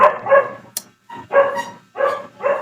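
A dog barks loudly and close by in a video game, several sharp barks in uneven bursts with short pauses between them.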